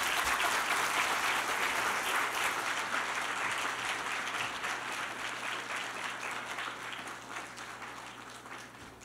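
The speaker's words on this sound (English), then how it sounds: "Ladies and gentlemen, please give them a round of applause" Applause from a forum audience at the close of a special session on entrepreneurship and women's leadership, a dense, continuous clatter of many hands that starts strong and gradually tapers off, with no talking.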